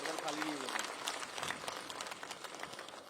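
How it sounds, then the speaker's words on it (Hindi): A large crowd claps steadily at a political gathering in Chhattisgarh to welcome Union Minister Prahlad Patel, with a loud amplified voice speaking over the dense, continuous applause. "आदरणीय प्रहलाद पटेल जी के जोरदार ताली बजा के स्वागत करो।"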